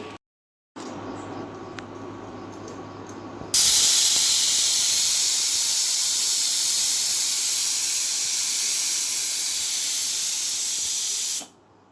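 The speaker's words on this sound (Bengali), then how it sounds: "প্রেসার কুকারটা বসিয়ে দিয়েছি, এবারটা অপেক্ষা করবো 5-6টা শেষ আসা পর্যন্ত" A pressure cooker cooking mutton hisses steadily, then bursts into a loud, sustained whistling jet of steam that runs several seconds before cutting off.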